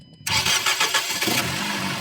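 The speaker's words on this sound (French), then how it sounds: "Et voilà, la voiture elle a démarré." A car engine cranks and catches with the help of a portable jump starter booster, quiet for a quarter second before a loud burst of starting, then settling into a steady close idle with no talking.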